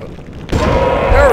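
A single loud gunshot boom strikes at a Tyrannosaurus in the dinosaur-hunting game Carnivores Dinosaur Hunter, cutting in abruptly after near-silence and ringing on briefly.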